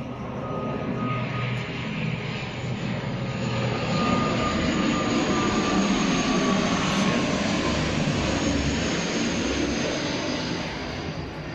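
Airplane passing low overhead near Mexico City airport, a loud broad engine roar swelling to a peak midway and slowly easing, with no talk.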